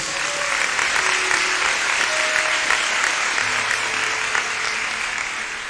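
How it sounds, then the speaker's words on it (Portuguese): A church congregation applauds steadily after a scripture reading, a dense, even wash of clapping sustained throughout with a few faint tonal hums underneath. "Vamos aplaudir a palavra de Deus."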